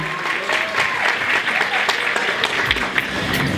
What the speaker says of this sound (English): Another round of applause for Melissa Gear.